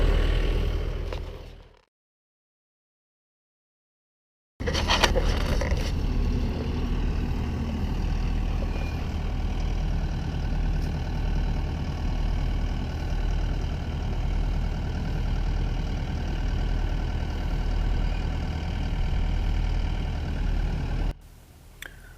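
A big farm tractor's engine idles steadily during hay bale hauling, a continuous low rumbling drone after a brief dropout, fairly close and unchanging, with no talk.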